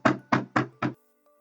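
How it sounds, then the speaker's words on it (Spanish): Four sharp knocks on a door in a quick, even rhythm, close and crisp, followed by silence. "llamó a la puerta"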